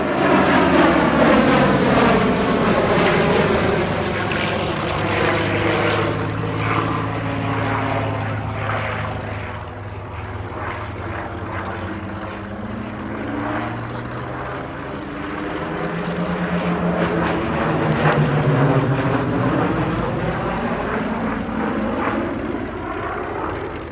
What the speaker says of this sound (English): In from the left we have our Hurricane pair, Trevor Dugan and Gabriel Barton.